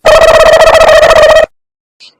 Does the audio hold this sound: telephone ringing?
yes